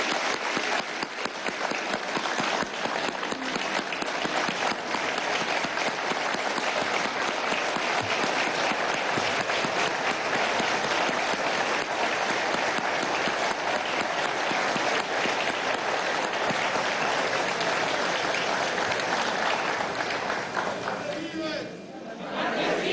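Sustained, loud applause from a packed audience in the National Assembly for the president, a dense wall of clapping lasting over twenty seconds before tapering off, with some crowd chatter mixed in.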